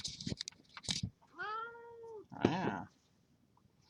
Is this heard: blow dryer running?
no